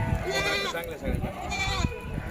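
Several dairy goats bleat close by with wavering, nasal cries over a voice, which keeps talking throughout.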